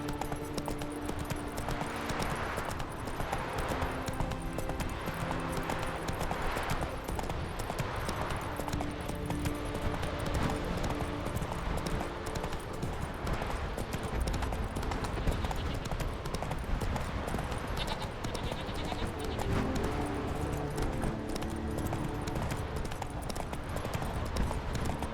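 Roach, a horse in The Witcher 3, gallops in a steady clip-clop of hooves that carries on throughout, layered with game music and ambience.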